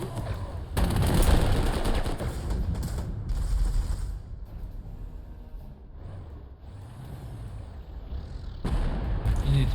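Dense, continuous gunfire and explosive rumble from a World War II battle in the Panzer Corps 2 strategy game, loud and unbroken with overlapping reports and mechanical clatter throughout.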